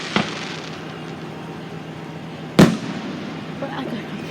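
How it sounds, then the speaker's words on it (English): A single sharp firework bang cracks out mid-clip over a steady background rumble, with a smaller pop at the start and brief crackle after, while people chat nearby. "How many fireworks did they bought?"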